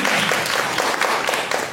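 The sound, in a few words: audience applause for African children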